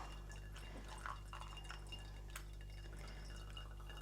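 Hot water pours in a spiral over coffee grounds, a faint close trickle with small drips against a low background hum.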